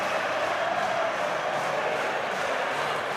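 A rugby crowd at Sixways, Worcester Warriors against Gloucester, cheers after a try as a broad, steady roar from a distant stadium, with no distinct voices.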